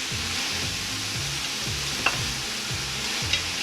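Leeks sweating in a pan for leek and potato soup, giving a soft steady sizzle under a rhythmic low scraping of a spoon stirring back and forth, with a couple of faint clinks, close and without talk.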